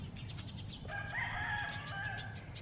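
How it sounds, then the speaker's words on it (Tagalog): A rooster crows once, a drawn-out call at moderate distance, over faint background noise. "Uy, manok. Manok oh."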